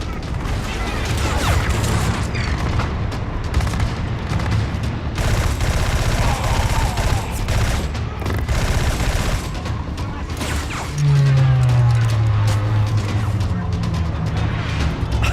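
Rapid gunfire and bursts in a PS4 reveal game trailer at the 2013 PlayStation conference, loud and dense throughout, with a heavy rumble and whooshing effects toward the end and some voices mixed in.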